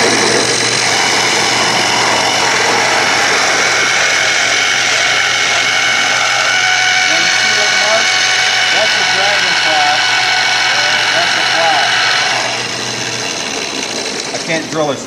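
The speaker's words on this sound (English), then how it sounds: "So what hole did you just drill?" Steady, loud whine of a drill boring a hole in the butt end of a guitar body for the tremolo spring adjustment wheel, running continuously for about twelve seconds before easing off, with voices talking over it.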